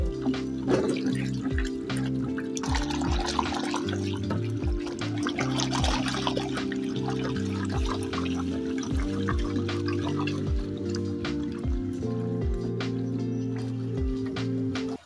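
Liquid poured into caustic soda and stirred while making laundry tablet soap, a steady trickling and sloshing that runs throughout at moderate loudness over a constant low hum.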